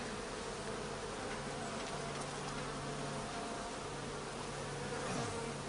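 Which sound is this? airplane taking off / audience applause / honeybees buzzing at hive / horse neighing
honeybees buzzing at hive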